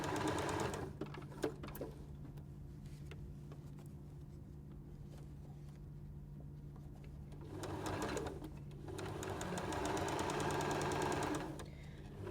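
A sewing machine stitches through cotton quilt fabric for an arrowhead star block in two bursts of rapid, even needle clatter, separated by a quieter pause, with a faint earlier run and no talk.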